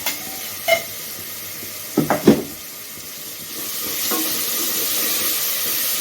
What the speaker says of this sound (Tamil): நண்டை போட்டு நல்லா பரட்டி விடுங்க.